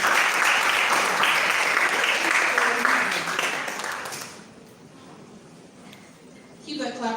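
A crowd claps loudly and densely for a speaker walking onto stage at a women's festival event, then the clapping fades to a low patter and a voice speaks near the end.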